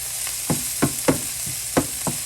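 Beef ribs with green pepper frying on a stove over medium-high heat, with a steady close sizzle broken by about six sharp scraping stirs at an irregular beat.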